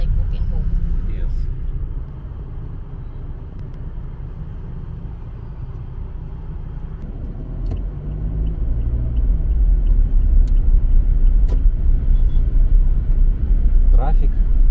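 Heavy road traffic on a busy road in the Philippines, a constant low rumble of passing vehicles that grows louder toward the end, with people talking nearby.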